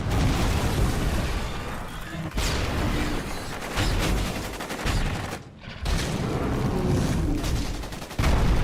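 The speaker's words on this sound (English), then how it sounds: "But I want to hear more of the distant kind of like battle going on." Distant battle gunfire layered through a game audio reel, a dense continuous wash of rattling shots and booms with a brief drop-out midway, steady and loud throughout.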